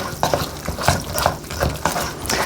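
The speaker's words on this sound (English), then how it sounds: "I'm going to go ahead and stir that oatmeal and egg into my" Meatloaf mixture being stirred by hand with oatmeal and egg, a series of soft, wet, squelching strokes repeating at a steady rhythm, close up, with light utensil clatter against the bowl.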